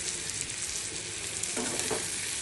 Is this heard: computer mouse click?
no